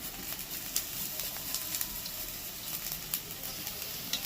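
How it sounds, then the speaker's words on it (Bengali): Garlic, onion and ginger sizzle steadily in a hot pan with shallow oil, a dense continuous crackle of frying with small pops scattered throughout, close and fairly quiet, no voices. "এবার দিয়ে দিচ্ছি আদা।"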